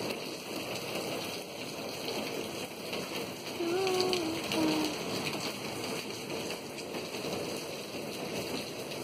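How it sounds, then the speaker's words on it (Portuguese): Steady rain falling outside a home in a light drizzle, a soft continuous patter and hiss heard from indoors at moderate distance, with a brief faint bird call partway through and no speech. "Está chovendo lá fora."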